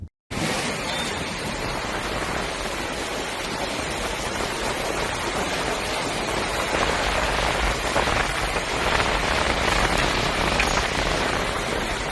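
Steady rain falls on surfaces in a dense, even hiss that begins abruptly and holds at a constant level for the full length, with no voices.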